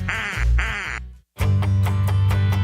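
A duck quack sound effect in a radio advertisement for an air conditioning service, a loud close pair of nasal quacks, a brief silence, then a bright burst of repeated quacking.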